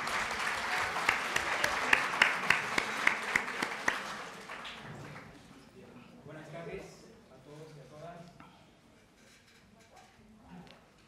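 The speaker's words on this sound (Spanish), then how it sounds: "Así que un gran aplauso para Emilio, por favor." Audience at an international special education seminar applauds to welcome a speaker, a dense burst of clapping for about four seconds that fades into murmuring and a voice.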